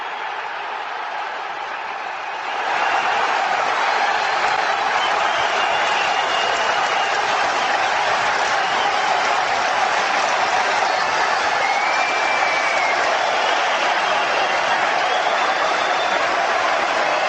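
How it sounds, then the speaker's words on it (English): Stadium crowd noise effect ahead of a high school football kickoff, a steady roar of cheering and applause that swells after a quieter opening and holds loud and continuous, with no voices. "Can we get some crowd noise?"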